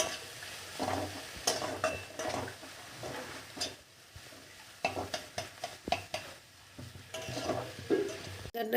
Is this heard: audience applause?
no